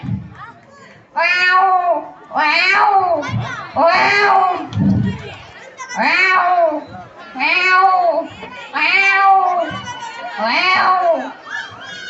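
Voice imitating a male cat: a series of about seven loud, drawn-out yowling meows in a regular rhythm, close to the microphone, with a faint crowd of children in the background.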